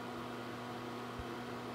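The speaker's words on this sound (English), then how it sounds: "I have an induction burner here, so you can hear the fan of that as well." Steady, even whir of an induction burner's cooling fan, quiet and constant with a faint low electrical hum, running unchanged throughout with no speech.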